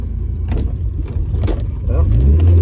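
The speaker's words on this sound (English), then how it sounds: "I can feel the diff slipping, clutch slipping, engine sounds like it's about to explode." A car engine running while the clutch and differential slip, a low rumbling drone that builds and rises toward the end, with people talking over it inside the cabin.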